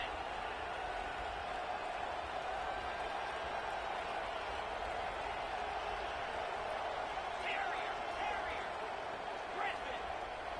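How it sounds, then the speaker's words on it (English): Football stadium crowd roaring during a 2-point conversion attempt in a Florida versus Notre Dame game, a steady, far-off wash of massed voices with faint whistles and calls mixed in. "this crowd is electric trying to stop them"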